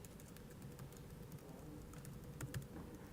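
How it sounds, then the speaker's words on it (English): Typing on a computer keyboard: faint, quick, irregular key clicks in a quiet room, close but low in level, with no talk. "And so as I type"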